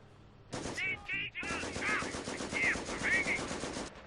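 Company of Heroes battle gunfire rattles in sharp bursts: a short volley, a brief gap, then sustained firing, with in-game unit voices layered over it.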